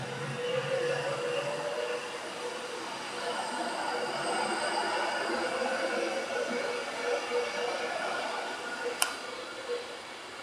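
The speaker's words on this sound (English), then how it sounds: "A Pendolino" A Pendolino train passes at a distance as a broad, moderate rumble and rush of rolling stock lasting around ten seconds, with a brief sharp click near the end.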